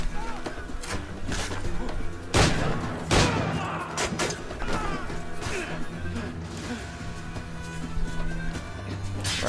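Gunfire in Assassin's Creed IV at point-blank range, with sharp cracks and crashing bursts over dense game music and ambient noise. A few loud shots stand out near the start, and a speaking voice runs under the action.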